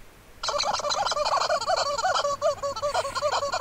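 A fowl, heard as a chicken, calls in a continuous loud, close burst of rapid warbling clucks that begins abruptly and keeps going without a pause.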